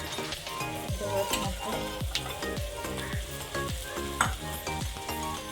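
Chilli powder and cumin paste frying in oil in a pan, a constant close sizzle broken by regular stirring scrapes of a spoon, with no voices.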